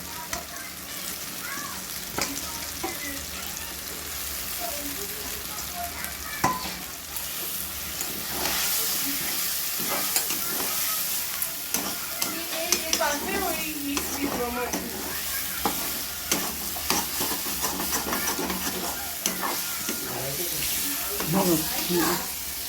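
Spices for a Bengali-style mushroom curry sizzle and crackle in hot oil as they are stirred, with a continuous hiss and repeated scraping strokes close to the pan, and a voice speaks now and then over the frying.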